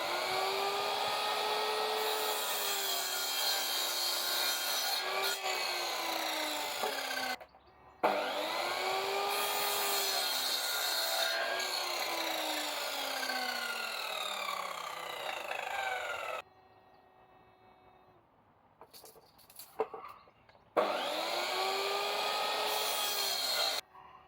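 A power saw cutting lengths of wood for a chicken and duck house door frame, three long loud whining cuts broken by short pauses, with a quieter stretch and a few knocks before the last cut.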